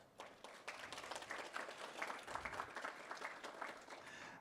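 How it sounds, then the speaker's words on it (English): Audience applause at a GeoAI keynote event after a presentation: a modest room of clapping hands, quiet and fairly brief, with a light scattering of claps throughout. "I think that applause is necessary."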